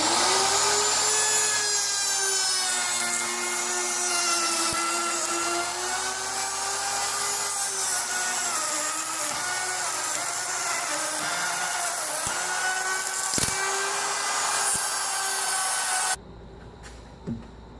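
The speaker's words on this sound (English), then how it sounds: "A little bit more sanding and we should be good to polyurethane." Steady, continuous abrasive whirring of a power sander on wood, droning with a tonal hum for most of the clip before cutting off abruptly near the end.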